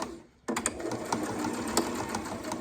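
A sewing machine back stitching a pocket starts abruptly after a short quiet moment, then runs steadily and loudly at close range without pause.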